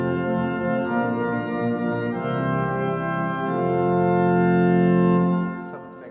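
Pipe organ chorus of diapason stops with mutation stops added, a full, dense sustained chord swelling louder toward the end before cutting off, with no talking.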